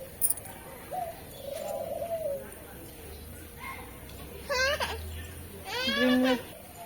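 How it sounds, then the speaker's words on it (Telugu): Fantail pigeons at a bird enclosure coo in a few short, moderately near bursts, with other bird calls and faint background voices around them. "ఈ పాంటైల్ పావురాలంట"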